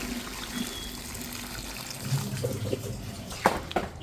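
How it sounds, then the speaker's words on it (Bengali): Hot water poured into a pan of cooking duck meat, a soft watery trickle and splash running through the clip with a few louder splashes near the end, close by and alone. "এখন দিয়ে দিচ্ছি গরম জল।"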